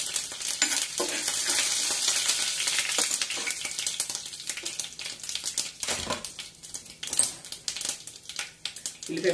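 Curry leaves and tempering spices hitting hot oil in a pan for a dried-fish, brinjal and tomato curry, a loud hissing sizzle that settles into steady frying crackle with occasional stirring scrapes.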